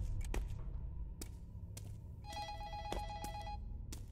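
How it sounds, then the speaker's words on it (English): In a Chinese horror video game, a telephone rings faintly in the distance with a brief electronic trill, mixed with sharp clicks and low ambient rumble, and no voices. "Was that a phone ringing?"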